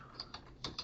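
Quiet computer keyboard typing, a handful of soft clicking keystrokes in quick irregular succession, faint and close.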